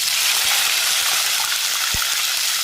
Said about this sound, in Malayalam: ഈ മൂപ്പിച്ച കടുക് വറുത്തതിനകത്തേക്ക് ഉള്ളിയിലേക്കൊക്കെ ഞാൻ ശകലം വെള്ളം ഒഴിക്കുക.